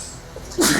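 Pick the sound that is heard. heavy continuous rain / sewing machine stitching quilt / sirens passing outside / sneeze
sneeze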